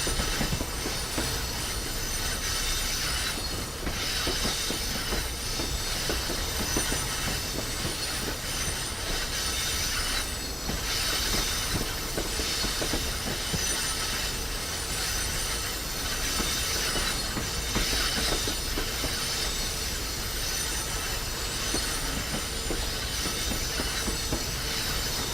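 Boston Sprinter train running in the Northeast Corridor setting of the video game Train Sim World 5, with a steady rumble of railcars rolling on track and sustained wheel squeal, continuous and close with no talking.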